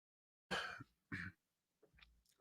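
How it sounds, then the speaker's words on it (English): A man coughs twice, harsh and close, then clears his throat in a softer, broken rasp, with no talking. "I got to cough again."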